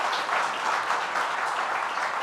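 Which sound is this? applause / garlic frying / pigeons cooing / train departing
applause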